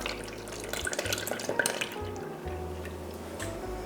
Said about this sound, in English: I'm just gonna pour the soy milk into the little well we created.